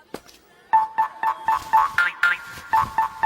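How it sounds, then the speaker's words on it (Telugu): Mobile phone ringtone in a classroom scene, a repeating electronic tone pattern of short bright beeps in a steady rhythm, close and clear with no voices over it. "సార్ మీకు ఫోన్ వచ్చింది"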